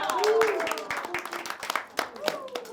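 A stand-up comedy audience breaks into a patter of applause and scattered claps, fairly close, while a performer keeps talking over it.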